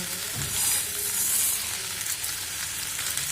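Pre-fried mung dal stirred and sautéed in a hot pan, giving a steady close sizzle with soft scraping of the spatula throughout, no voices.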